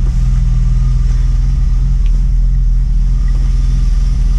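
A BMW 325i E36 engine idling loud and close just after starting, a steady deep throbbing rumble with an even pulse that holds constant throughout and has no voices over it.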